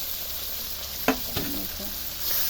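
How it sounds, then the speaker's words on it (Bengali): Onions sizzling with dry fish in a pan for a Bengali shutki curry, a steady hiss broken by a couple of sharp utensil knocks as they are stirred, close and alone. "এবার আমি দিয়ে দেবো পেঁয়াজগুলো পেঁয়াজটা দিয়ে ভালো করে নাড়তে হবে"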